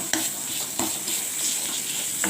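Masala frying in mustard oil for a bata fish curry gives a steady, close sizzle, with a few sharp clicks of a spoon against the pan and no talking.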